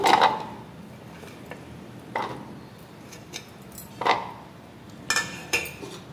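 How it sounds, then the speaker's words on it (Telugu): Onions are chopped in a small kitchen chopper while making pesarattu-style lentil dosa batter, giving a handful of sharp, close knocks and clatters spaced irregularly with quiet gaps between. "చాపర్లో ముందుగా ఉల్లిపాయలు ఇలా కట్ చేసుకొని వేసుకోవాలి."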